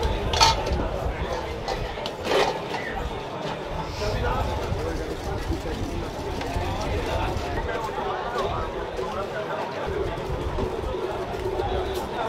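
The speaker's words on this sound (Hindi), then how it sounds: "ऐसे मधानी मार के इसको अच्छे तरीके से मिक्स कर लिया जाता है, चीनी और दही को" Yogurt and sugar are churned for lassi with a wooden madhani, giving a steady sloshing clatter with sharp clinks of metal and pots. Busy voices and shop bustle run underneath.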